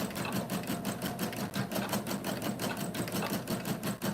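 A Husqvarna Viking Topaz 50 sewing machine stitches steadily, its needle pulsing in a fast even rhythm with a motor whir underneath, close and continuous through the whole stretch.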